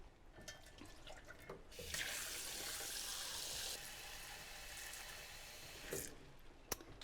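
Tap water runs steadily into a sink to cool boiled eggs, a bright rushing stream for several seconds with a few splashes and clatters before and after, close and fairly quiet.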